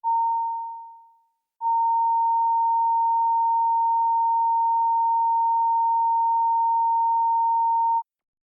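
A pure sine test tone sounds for the Committee Room 30 sound check. It fades out briefly, then returns as one long, steady, unbroken pitch that holds at even loudness for several seconds, with no voices, and stops abruptly.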